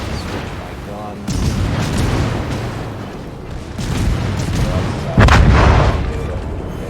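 Warship cruiser guns in a naval combat video game fire heavy volleys, with deep booming blasts around 1.3 s, 3.8 s and a loud burst near 5.2 s over constant battle rumble, while a voice talks throughout.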